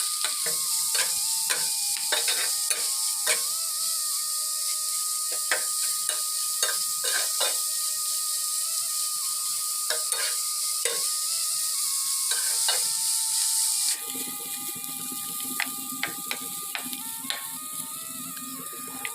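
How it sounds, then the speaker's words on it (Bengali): Prawns with salt stir-fried in a pan, a steady close sizzle broken by repeated sharp scraping and clinking strokes of a spatula against the metal, quieter after the midpoint. "এবার নাড়াচাড়া করে নিয়ে ভালোভাবে ভেজে নিব"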